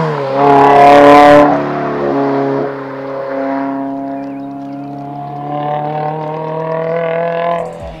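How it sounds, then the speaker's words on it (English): A car fitted with an aftermarket exhaust revs loudly and close by, its deep, aggressive harmonic tone swelling in a strong burst, then settling into a steady rumble that rises again near the end. "it still has a very deep and aggressive tone to it, making it the perfect exhaust for a daily driver"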